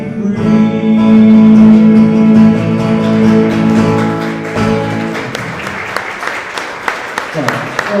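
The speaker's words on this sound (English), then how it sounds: "Thanks for a round of applause." Applause from an audience follows the tail of a sung, musical passage, the clapping growing clearer and steadier as the music fades.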